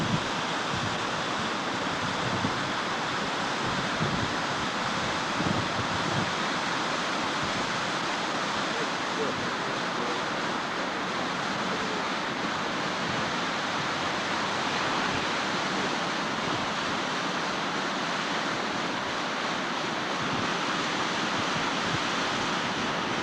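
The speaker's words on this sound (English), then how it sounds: "Another angle of the waterfall" A waterfall in the Alaskan mountains roars as a steady, dense wash of water noise that never lets up, filling the whole scene.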